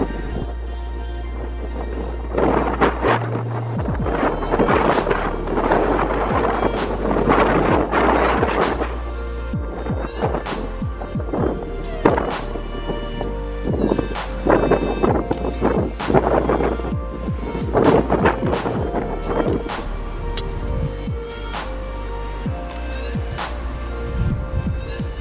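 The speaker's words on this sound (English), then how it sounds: "it is really windy up here." Strong wind on an exposed hilltop buffets the microphone in heavy, roaring gusts that rise and fall continuously, with low rumbling bursts and no clear voices.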